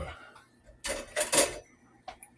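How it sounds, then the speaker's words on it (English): A knife scrapes butter across crisp toast in a kitchen, three rough rasping strokes close up and a small clink at the end, with no talking. "to butter the toast, get it ready"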